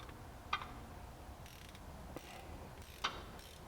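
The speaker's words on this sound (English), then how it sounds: "So we'll go ahead and we're going to tighten our tensioner down." A timing belt tensioner is tightened on a 2002 Honda Accord, with faint ratchet clicks and a couple of sharp metallic ticks from the tools in a quiet setting.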